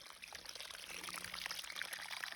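Water gushes steadily from the cut end of a waterline being drained before freezing, a continuous close hissing splash with no pauses.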